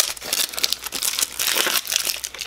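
A very sharp knife slices open cardboard box packaging, giving a close run of scraping, crinkling tears with short bursts and brief pauses, heard alone without talk.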